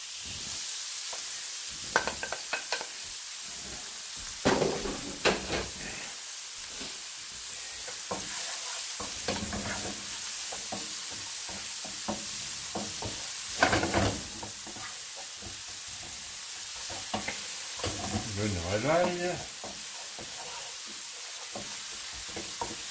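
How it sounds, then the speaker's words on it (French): Onion and garlic fry in olive oil in a pan with a steady close hiss, punctuated by intermittent stirring scrapes and crackles, no voices. "On va faire frire l'oignon ail."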